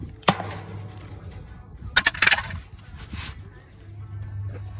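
Wire cutters snip through cattle fence wire after a knot is tied, giving a sharp metallic click up close, followed by a second cluster of crisp clicks and rattles against quiet outdoor background.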